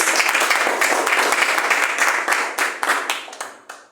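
A church congregation claps loudly to welcome a preacher, a dense burst of many hands that holds steady and then thins out and fades near the end.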